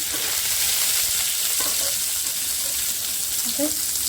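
Chopped onions and green chillies fry in hot oil with cumin seeds in a pan on a stove, giving a steady, close, dense sizzle that runs throughout, with a few faint stirring clicks late on.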